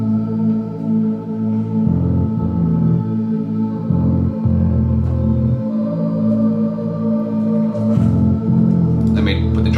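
A looping atmospheric bass sample with a deep sub bass in a hip-hop beat, playing solo: sustained tonal notes changing pitch every second or so in a steady pattern, with reverb and no drums.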